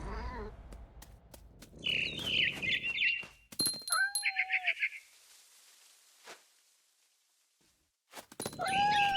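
Cat sounds in the video game What Remains of Edith Finch: short meows and squeaky calls in separate bursts, mixed with soft thumps and stretches of near silence.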